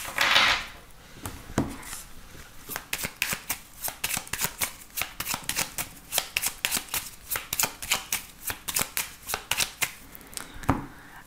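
A deck of 32 playing cards being shuffled by hand, with a long run of crisp, rapid riffling bursts in a steady rhythm, close and moderately loud with no talk.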